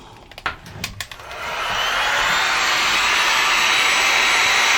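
A hot air blower starts up with a few clicks and then runs as a loud, steady, close roaring whoosh over an epoxy resin clock.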